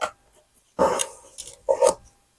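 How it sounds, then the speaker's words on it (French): A Swiss White Shepherd dog in a craft workshop gives a few short barks or yelps in two bursts, close and fairly loud, with quiet gaps between them. "Donc Monsieur Swan, c'est mon chien, mon berger blanc suisse"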